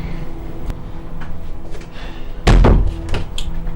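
An indoor house door is slammed shut with one loud, heavy thud and a short rattle, standing out against a low background hum.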